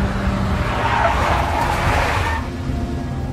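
A big black Mercedes in Max Payne skids with a loud, sustained tire screech for about two seconds, then falls back to a low engine rumble.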